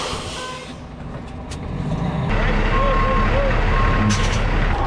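A Volvo truck reverses slowly in a straight line while its backup alarm sounds a few evenly spaced beeps over a low, rising diesel engine drone, heard close by.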